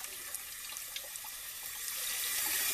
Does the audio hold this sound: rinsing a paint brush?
yes